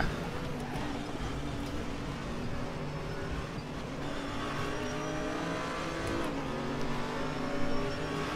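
Audi R8 and Mercedes SLS race cars in the RaceRoom Racing Experience game, their engines roaring steadily and close throughout, with shifting revs and no clear gaps.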